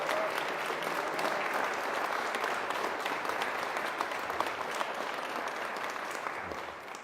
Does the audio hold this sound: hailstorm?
no